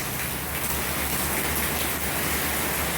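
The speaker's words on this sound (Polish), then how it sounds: "Padła nas ulewa" A heavy downpour in southern Thailand near Hat Yai, dense continuous hiss of rain pounding surfaces close by, steady and loud throughout with no voices.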